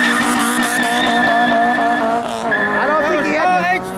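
Tires squeal loudly and continuously as a Honda EP3 does a burnout at a car meet, the screech wavering in pitch over a revving engine, with voices talking underneath.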